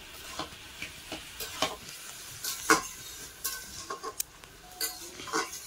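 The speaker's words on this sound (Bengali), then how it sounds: "এবারে কিছুক্ষণ কষে নেব মশলার, যাতে কাঁচা গন্ধ চলে যায়" Spices and bottle gourd being stir-fried in a pan, with a soft sizzle beneath intermittent scraping and tapping stirring strokes, irregular and fairly close, no talking.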